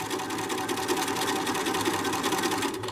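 A sewing machine runs steadily, stitching a decorative pillow's fabric along its edge on a 5/8-inch seam line, its rapid mechanical whir continuous and close with no pauses or talk.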